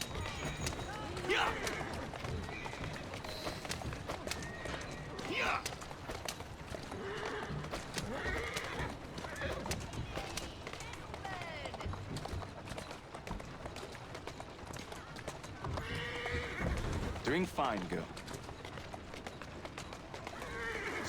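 Horse hooves clip-clop at a running pace with repeated whinnies and neighs in Assassin's Creed Syndicate, close and loud, while someone speaks over the hoofbeats.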